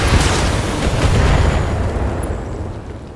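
A loud, heavy explosion booms as a vehicle is shot down in the Battletech video game, followed by a rumbling roar that slowly fades over a few seconds, with no voices.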